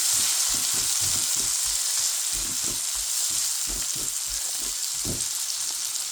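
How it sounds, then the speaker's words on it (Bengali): Sweetcorn and green vegetables fry lightly over high heat, a bright continuous hiss of sizzling oil with rhythmic low knocks and thumps from tossing or stirring in the pan throughout. "সুইটকর্ন আর গ্রিন এগুলি হচ্ছে একটু হালকা ফ্রাই করে নেই"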